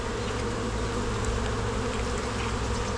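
Dense, steady buzzing of many honey bees close up at a hive, a continuous droning hum without pauses or voices.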